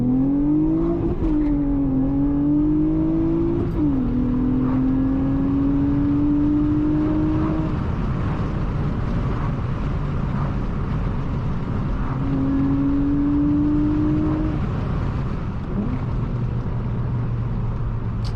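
A seventh-generation Honda Accord V6 coupe with a six-speed manual revs hard into VTEC, the engine note rising through each gear with brief dips at the shifts. It is heard from inside the cabin, close and steady, without talk.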